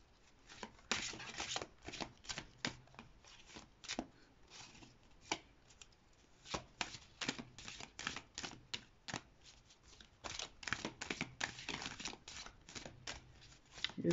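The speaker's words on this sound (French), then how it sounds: "je vais d'abord tirer une carte pour le message à recevoir" Tarot cards are handled and drawn from a deck, producing soft, irregular flicks, taps and shuffling rustles that come in quick clusters across the whole stretch.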